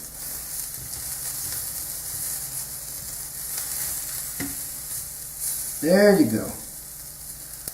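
Seafood sizzles steadily in a hot pan after being flipped, a continuous frying hiss under a brief spoken remark and a louder burst of talk near the end.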